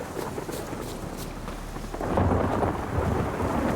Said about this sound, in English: Okay, that's a pretty localized storm.